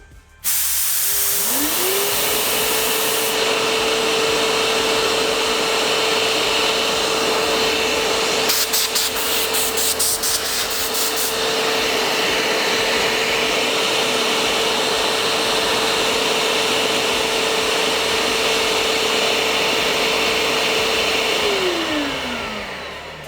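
A Procraft VP2000 pneumatic construction vacuum cleaner, powered by a compressor, starts up, then runs loud and steady with a constant whine and rushing air before winding down at the end.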